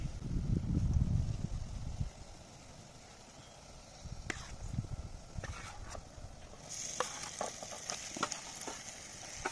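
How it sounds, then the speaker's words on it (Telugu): Mutton pieces drop into a hot pan of oil and ginger-garlic paste, a loud burst of sizzling up front that settles into steady frying, with stirring scrapes and clatters toward the end. "ఇక చలో ఇక మటన్ వేసుకుందాం."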